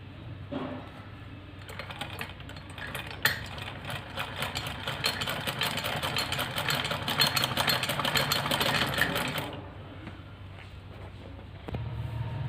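A sewing machine stitches gota lace trim onto the side seams of a ladies' kameez. It runs in a steady, fast mechanical chatter for several seconds, close and fairly loud, with quieter handling sounds before and after.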